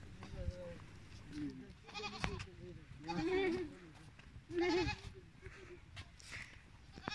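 Goats bleat several times along a farm path in the Skardu area, with wavering calls at moderate distance rising above quiet outdoor background and faint voices.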